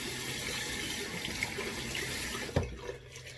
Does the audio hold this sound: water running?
yes